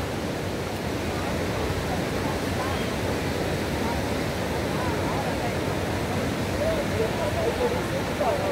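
Sea waves break at Praia do Forte beach in Cabo Frio, making a constant broad surf rush with wind, steady and fairly loud throughout.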